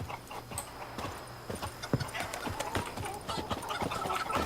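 Horse hooves clip-clop at a walking pace in The Witcher 3: Blood and Wine, a steady close rhythm of hoof strikes over background game ambience, with faint voices at times.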